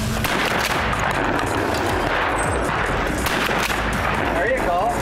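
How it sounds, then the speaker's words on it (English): Shotgun blasts at an outdoor sporting clays course, dense and loud with overlapping reports and continuous noise, while people talk in the background. "Nice shooting, Tech."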